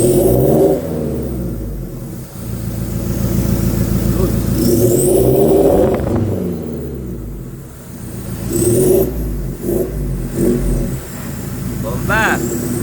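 Mitsubishi Montero fitted with an HKS full exhaust, idling and revving repeatedly nearby, the engine note rising and falling in several bursts while someone talks over it.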